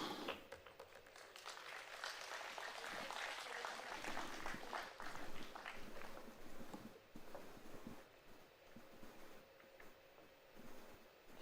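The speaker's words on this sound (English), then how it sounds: "The home crowd very nicely giving a warm round of applause" A home crowd at a professional 9-ball pool championship in Pudong gives a soft, steady round of applause that stays even throughout and sounds distant and low in level.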